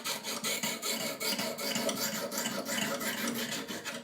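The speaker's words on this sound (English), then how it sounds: "If not, I'll just sharpen it, and over time, through sharpening, it'll come out." A pocket knife blade is ground on a sharpener to work out a nick, making repeated close rasping strokes in a steady back-and-forth rhythm.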